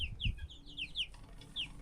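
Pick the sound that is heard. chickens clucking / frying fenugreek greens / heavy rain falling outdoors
chickens clucking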